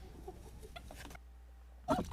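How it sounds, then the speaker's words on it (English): A young rooster gives a short, loud crow in a backyard chicken coop, bursting out near the end after quieter clucking and low background noise. "So he crows a little at the end of this video."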